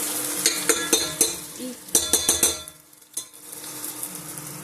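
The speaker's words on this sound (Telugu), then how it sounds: "ఈ ఎండుమిరపకాయలు కొంచెం బ్లాక్ అవ్వాలి, ఈ టమాటాలు అయితే ఉడకాలి." Dried red chillies and tomatoes frying in a hot pan, with bursts of sizzling and spattering broken by clinks and scrapes of a utensil stirring against the metal pan, fairly close and without talk.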